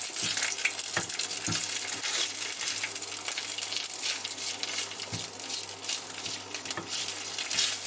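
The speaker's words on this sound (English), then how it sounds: "Add some tomato concentrate to fry." Tomato concentrate fries in a little oil, giving a loud, dense, continuous sizzle with occasional low clunks from stirring.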